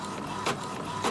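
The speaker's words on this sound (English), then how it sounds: "I'm just printing it on inkjet paper, or inkjet printer rather." An inkjet printer runs on ordinary paper, a continuous mechanical whir with two short louder swishes of the print head moving, close by.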